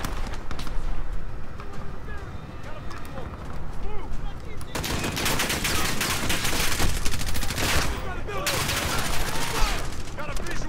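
Heavy-recoil gunfire in a Modern Warfare video game, a continuous dense clatter of shots over a busy battle din, growing louder and thicker midway with sustained bursts.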